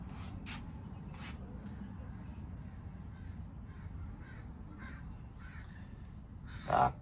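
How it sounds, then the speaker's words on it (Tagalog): Crows cawing in short, separate bursts over steady low background rumble, with a louder, closer call near the end. "Masaya na yan naman yung mga ibon"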